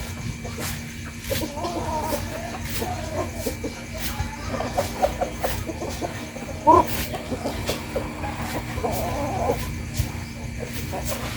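Chickens cluck and chatter in a backyard coop, a scattered series of mid-distance calls over a constant low background hum.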